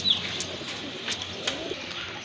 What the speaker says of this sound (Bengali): দেখেন মাশাআল্লাহ কত সুন্দর কবুতর